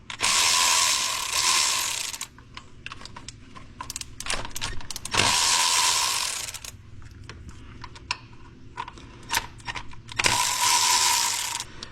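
A ratchet wrench works 10mm bolts loose on a 2010 Ford Explorer with the 4.6L engine, giving bursts of rapid clicking close up, with pauses and small metallic knocks between the runs.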